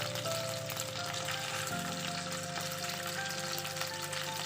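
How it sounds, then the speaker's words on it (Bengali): Chicken pieces frying in hot oil in a pan while a butter garlic chicken dish is prepared, giving a steady, close crackling sizzle that holds evenly throughout, with no voices. "সবকটা চিকেনকে খুব ভালো করে ফ্রাই করা হয়ে গেছে।"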